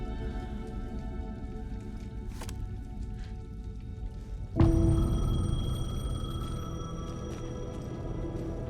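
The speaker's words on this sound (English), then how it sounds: "The payphone was ringing." A payphone rings in the video game Alan Wake 2, a sharp electronic ring bursting in midway over a low droning game ambience and then sustaining with steady tonal bands, with no voices.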